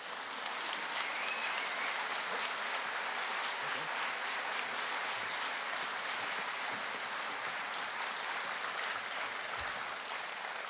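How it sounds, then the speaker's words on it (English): Sustained, steady applause from a conference audience welcoming a panel on stage, a broad wash of many hands clapping evenly for the whole stretch. "Give them a round of applause"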